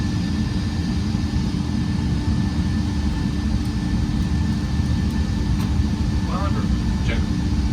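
Airbus A320 full flight simulator cockpit at takeoff thrust, a steady loud roar of engine noise and hum filling the cabin with a few brief clicks and chirps, while pilots talk over it.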